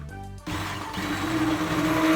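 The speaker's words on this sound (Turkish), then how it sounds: "Şimdi tüm malzemelerimi mikserden çekiyorum." An electric blender purees cooked broccoli soup vegetables, kicking in after a short pause with a steady loud whirring hum that builds slightly.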